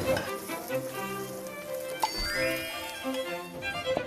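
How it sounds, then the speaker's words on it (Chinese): Coffee stir-fried in a hot wok in a chef's kitchen, a steady close sizzle with scraping stirs and occasional sharp metallic ticks against the pan, no talking. "咖啡炒進去啊"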